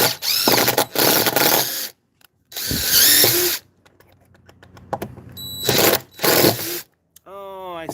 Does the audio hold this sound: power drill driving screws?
yes